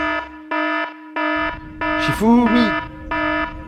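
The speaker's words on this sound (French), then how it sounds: "C'est pénible cette alarme, hein." A loud electronic alarm sounds in steady on-off pulses of buzzing beeps, repeating about twice a second. A voice briefly speaks over the middle of it.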